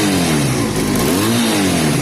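A Honda CB250 cafe racer motorcycle engine revs hard and close, its loud drone rising and falling in pitch as the throttle opens and eases, continuous throughout with no voices.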